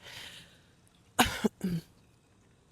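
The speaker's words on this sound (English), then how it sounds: "I'm all coughing at y'all in this microphone" Two harsh coughs, close and loud, burst into a microphone outdoors in a backyard near a pool and hot tub, separated by a short pause and surrounded by quiet.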